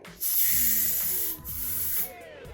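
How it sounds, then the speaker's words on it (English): Air hisses steadily out of a partly deflated modelling balloon for about two seconds, close up, with a brief dip midway and a faint rubbery squeak near the end. "I'm going to release some air"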